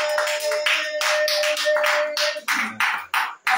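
A congregation at a house-cell prayer meeting in Gagnoa claps in a fast, rhythmic beat, loud and close, with a sustained tone behind it that drops away midway as the claps grow more spaced.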